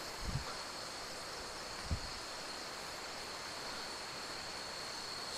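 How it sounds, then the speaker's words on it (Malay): A river runs beside a forest campsite near a waterfall, a faint, even wash of flowing water heard continuously, with a steady insect-like hiss above and a couple of soft low bumps. "So dia sini tak adalah sunyi sangat dengan bunyi air sungai"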